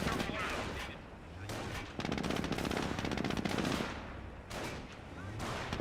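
Rapid machine-gun bursts and scattered rifle fire crackle through a Company of Heroes battle as a G43 squad engages a Jeep, dense and continuous, with a voice talking underneath.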